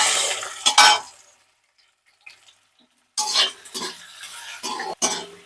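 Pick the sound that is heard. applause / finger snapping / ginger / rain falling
ginger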